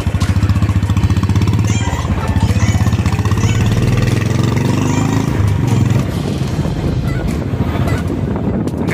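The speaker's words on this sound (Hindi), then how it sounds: "ये है मन्नू की बाइक और ये इसने स्टार्ट कर ली है, तो अब हम चल रहे हैं कॉलेज की ओर" A motorcycle engine runs steadily and close while riding a mountain road in the early morning, a loud continuous throbbing drone with some wind buffeting over the whole stretch.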